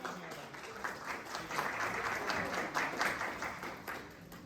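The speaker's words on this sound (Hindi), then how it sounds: "एक बार जोरदार तालियां हो जाए।" An audience at a dealer meet in a hotel in Gurugram bursts into applause, a dense wash of many hands clapping that swells and fades over a few seconds, with faint voices mixed in.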